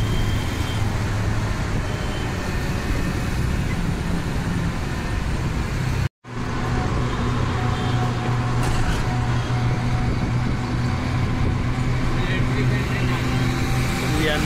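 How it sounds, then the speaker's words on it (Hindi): Busy traffic of cars, bikes and auto-rickshaws on Ajmer Road in Jaipur, a steady, loud roar of engines and tyres with a brief cut midway, and a voice talking at times. "ये जयपुर का ट्रैफिक अजमेर रोड पे, काफ़ी सारी गाड़ियाँ, बाइक और ऑटो और कारें, बहुत सारा ट्रैफिक यहाँ पर इस रोड पे चलता हुआ।"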